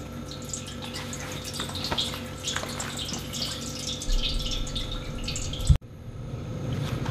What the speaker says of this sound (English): And we'll fill this keg all the way up until we get to the very bottom of the fermenter.